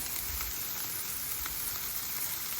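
Cabbage sizzles steadily on a Blackstone griddle in an outdoor camp setting, with a continuous broadband frying hiss and a few soft scraping tosses, moderately close and with no talking.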